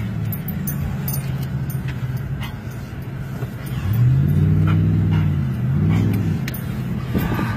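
A car engine surges hard under heavy acceleration during a wildfire escape, a loud rising roar amid rumbling noise, with a dog whimpering nearby and the engine swelling again toward the end.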